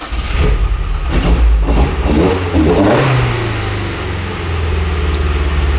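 A modified Mazda MX5 engine revs hard through its intake, rising and falling loudly and close for a few seconds before settling into a steady lower drone, with no talk over it.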